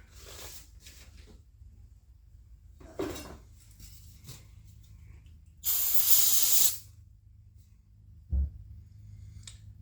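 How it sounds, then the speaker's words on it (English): A single sustained burst of carburetor cleaner aerosol spray hisses for about a second into a Stihl MS 170/180 chainsaw carburetor, set against quiet mechanical clinks and a low background hum. "Let me spray some cleaner in there."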